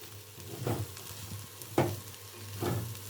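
Red poha with salt and fresh coriander is stirred in a pan, giving three distinct scraping, rustling strokes over a low, quiet sizzle.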